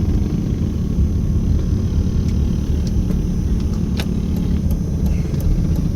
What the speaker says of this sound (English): We've got some more mini bikes and a go-kart.